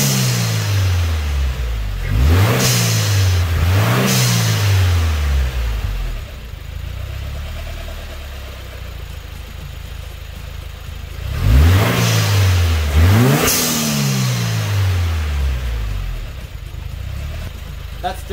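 A 2015-on Subaru WRX Premium with a GFB Respons blow-off valve set to full venting revs up twice, each burst ending in a loud whooshing release as the revs drop, heard nearby with the engine idling between revs.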